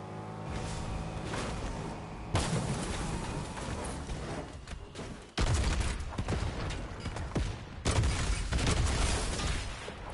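Gunfire in the Fortnite video game, a game-stream firefight with bursts of shots and sharp impacts, loud and close, coming in several dense clusters across the clip with brief gaps between them.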